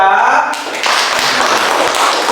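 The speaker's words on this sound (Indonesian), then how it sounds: "tepuk tangan untuk kelompok 2" Classmates clap for group 2 in a classroom, a burst of dense, close applause that begins about halfway through and continues to the end, after a brief voice at the start.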